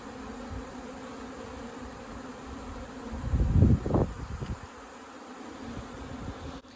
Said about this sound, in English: You are covered in bees because you have honey on you.